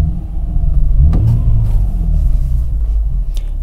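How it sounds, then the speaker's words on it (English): A car engine sits at idle and rises into a low, loud revving rumble as the accelerator pedal is pressed, heard close with no talking. "Now, watch when I give it a little bit of gas."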